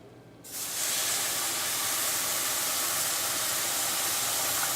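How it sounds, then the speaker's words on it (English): A loud, steady sizzling hiss bursts in after a brief quiet moment and keeps going as broth is poured into a hot pan of risotto. "Nice little sizzle there."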